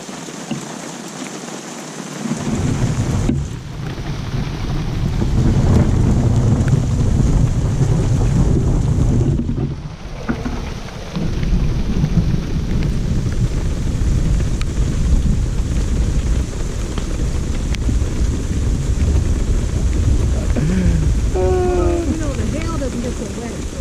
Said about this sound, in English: It's going to be one of those typical Alberta storms. It's hail and rain, and it's going to blow right by.